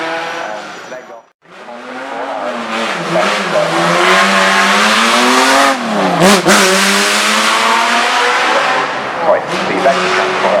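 An Aston Martin race car at the Goodwood Festival of Speed roars past close by, its engine rising in pitch as it accelerates, dipping briefly mid-pass, then holding a loud sustained wail as it pulls away.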